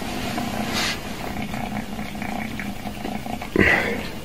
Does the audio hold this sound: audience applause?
no